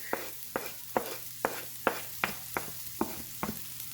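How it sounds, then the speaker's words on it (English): Slightly charred, softened vegetables sizzle in a pan for shakshuka while garlic goes in, with about nine evenly spaced sharp scrapes of a spoon against the pan over a steady frying hiss. "everything's slightly charred, nice and softened, so now I'm going to add the garlic"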